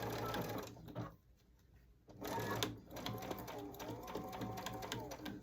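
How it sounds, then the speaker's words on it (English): A domestic sewing machine back stitching through a dish drying mat to lock the stitches, running in short bursts with a pause in the middle, its rapid mechanical whir close and steady. "now we're going to do some back stitching to start out with"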